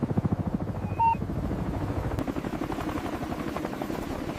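Military helicopters during a special-operations extraction, a steady rhythmic rotor chop with turbine drone, loud and close, continuing throughout.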